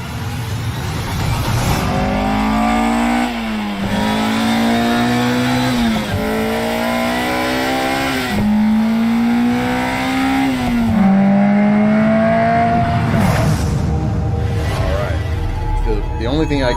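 A 2023 Acura Integra with a manual gearbox pulls hard through several gears, the engine note climbing and dropping at each shift in a repeating rising pattern, loud and sustained, with voices talking over it.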